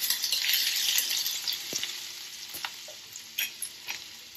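Ginger paste sizzling in hot oil with fennel seeds while a spoon stirs it, a steady bright fry broken by several sharp scraping strokes, close and alone.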